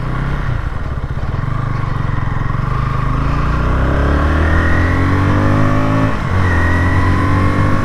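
A KTM Duke 160 motorcycle rides along with a loud, continuous engine note close by, pitch climbing smoothly through acceleration, dipping briefly at a gear change near the end, then rising again.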